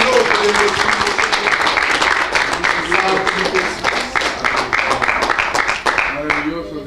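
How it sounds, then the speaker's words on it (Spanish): Church congregation clapping during a Spanish-language sermon, loud dense applause with rhythmic beats standing out, while a voice talks over it throughout. "Denle un aplauso a Cristo."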